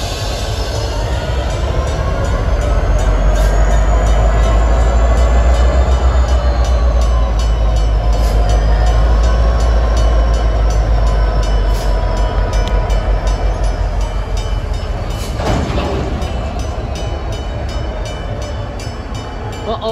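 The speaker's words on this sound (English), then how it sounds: "Goes the train." A Union Pacific freight train rumbles steadily past, heavy low-end roar with metallic wheel noise and a brief squeal near the end, loud and close throughout.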